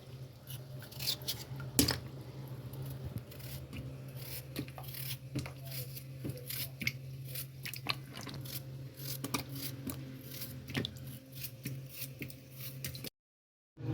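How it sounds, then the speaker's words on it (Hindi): A knife cuts bottle gourd and potatoes in a home kitchen, making scattered soft chops and scraping clicks at an uneven pace, close but quiet over a steady low hum, then it stops abruptly. "ये घिया कद्दू और आलू काट लेती हूँ"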